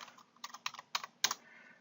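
Quiet, close typing on a computer keyboard while entering a value into a spreadsheet lookup table, a handful of quick key clicks in short irregular bursts.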